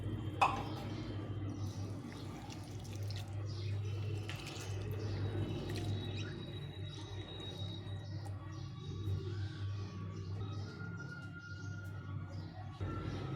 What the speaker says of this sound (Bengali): চিড়াগুলোকে ভালো করে জল দিয়ে ধুয়ে নিতে হবে একদম পরিষ্কার করে ধুয়ে নিতে হবে